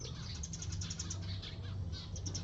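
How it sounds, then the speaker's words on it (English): Pet birds chirp inside a house in the Philippines, giving faint high repeated tweets over a low household hum and background noise. "Okay, yeah, it's our birds."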